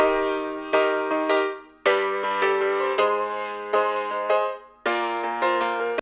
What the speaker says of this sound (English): So we also have the piano part, which sounds like this.